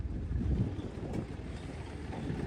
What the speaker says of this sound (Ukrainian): Вітерець, звісно, дує добрячий сьогодні.